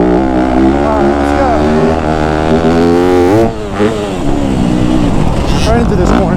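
A 2025 Yamaha YZ250F dirt bike ridden on a track, its engine loud and close, revving and shifting pitch with a brief dip midway before climbing again, with wind buffeting throughout.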